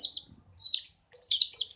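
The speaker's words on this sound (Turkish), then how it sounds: "Ve minif civcivlerimi içine atıyorum." High, thin peeping calls from small chicks during a bath, three short bursts with brief gaps between them, close by and clear.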